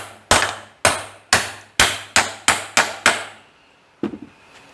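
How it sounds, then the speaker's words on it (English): A U-joint on a 1940 coupe is hammered with eight sharp metallic blows in quick, fairly even succession, loud and close, followed by a pause and a couple of lighter knocks. "All right, let me whoop on this U-joint."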